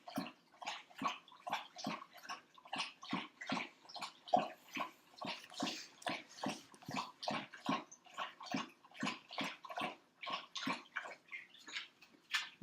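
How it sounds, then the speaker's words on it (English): A dog laps water steadily from a bowl in a quiet room, each wet lap a distinct slurp in a fast, even rhythm that continues throughout, close and clear with no talking. "there's my dog drinking water."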